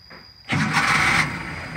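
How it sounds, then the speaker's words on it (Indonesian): An old 1995 car at a used-car lot cranks and fires up, its engine catching at once and running at a steady, fairly loud idle. "tolong mesinnya mobil-mobil yang tua diuripi"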